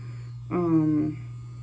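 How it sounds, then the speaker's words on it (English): A short burst of high-pitched motorized whine from an electric nail file at full speed rises over a steady low electrical hum, holds for about half a second, then drops away, leaving the hum. "that's what it sounds like all the way up"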